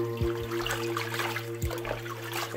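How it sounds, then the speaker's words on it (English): Running water rinsing a bunch of radish greens at a sink, a steady close splashing and trickling flow with a low hum underneath and no one talking. "Now I'll make sure to give it all a good rinse."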